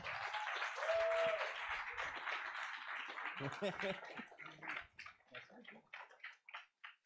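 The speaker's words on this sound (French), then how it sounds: "Je vous demande d'applaudir comme il se doit Romain Oulès" An audience applauds to welcome a guest on stage at a live YouTube evening event in France. Clapping fills the opening seconds, then thins out as a voice begins talking over it.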